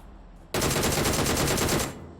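Rapid automatic gunfire in PUBG Mobile erupts suddenly into a dense, loud, continuous burst of shots lasting over a second, then cuts off into quiet game ambience.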